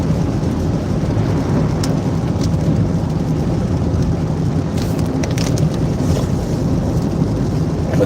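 A storm brings a constant, loud roar of heavy rain and wind, with deep rumbling underneath and a few sharper gusts or drops near the end, no speech.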